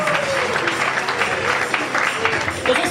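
A congregation at a women's convention church service in Liège, Belgium, applauds steadily, with dense, sustained clapping filling the room and a few voices in the crowd beneath it.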